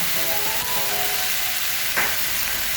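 Ginger and garlic fry in oil in a pan for an Assamese fish curry, giving a steady, close sizzle throughout with one brief scrape near the end and no talking.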